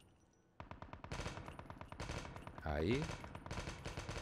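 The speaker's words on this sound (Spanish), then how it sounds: "Primero medir la distancia con un par de disparos" Rapid automatic gunfire in the mobile shooter Call of Duty Mobile, a dense run of evenly spaced loud shots with a brief burst of heavier impact, as a voice speaks briefly over it.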